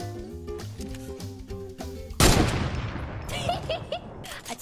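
Gunfire in the video game Fortnite: one loud, sharp shot breaks in halfway through after game music, followed by a decaying rumble and scattered smaller effects.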